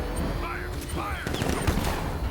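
Automatic weapon fire crackles in bursts during a Batman: Arkham Knight battle, mixed with shouting voices and background combat noise.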